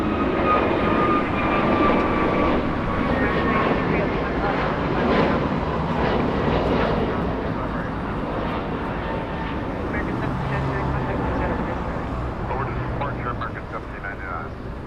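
An American Airlines jet departs Los Angeles International Airport for Philadelphia, a loud engine roar that is strongest at the start and gradually eases, with a voice speaking over it.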